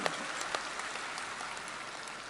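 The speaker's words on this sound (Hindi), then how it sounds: "7वां, एक बार तालियां बजा के स्वागत किए" Audience applause welcoming a team's seventh world record for sowing the most seeds in one hour, at a Maharana Pratap Jayanti event in Madhya Pradesh; steady, moderately distant clapping from a crowd, fairly faint throughout.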